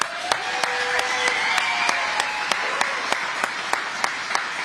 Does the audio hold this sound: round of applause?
yes